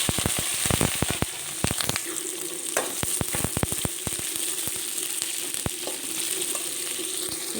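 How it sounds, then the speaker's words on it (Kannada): Chopped onions fry in hot oil with mustard seeds, cumin, green chillies and curry leaves, giving a steady crackling sizzle dotted with sharp pops and stirring clatter, close and with no talking. "ನೋಡಿ, ಈರುಳ್ಳಿ ಇಷ್ಟು ಫ್ರೈ ಆದರೆ ಸಾಕು."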